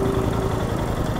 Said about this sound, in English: the engine sounds like that